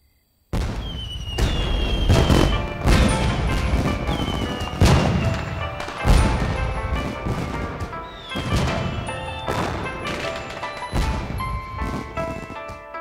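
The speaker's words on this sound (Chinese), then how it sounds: "这是只属于你一个人的烟花" Fireworks burst loudly and repeatedly for about twelve seconds: sharp cracks and booms with crackling, sparkling tails, close and dense, with no talking.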